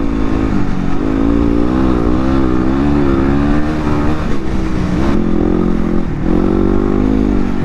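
A 2016 Yamaha WR250R motorcycle engine drones loudly and continuously while being ridden, its pitch wavering gently as the throttle shifts.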